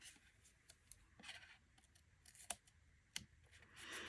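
Scissors trimming washi tape on a paper mini album craft, several short crisp snips scattered across a quiet background, close and fairly soft.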